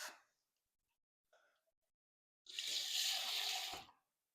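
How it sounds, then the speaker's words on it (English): Water splashes and gushes into a container for about a second and a half, a steady broadband pour after a couple of faint knocks. "put in a little water"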